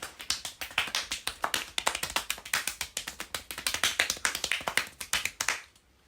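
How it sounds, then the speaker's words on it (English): A single person claps hands non-stop in a fast, steady rhythm of sharp, close slaps that runs for several seconds before stopping abruptly into quiet. "I'll try and clap non-stop"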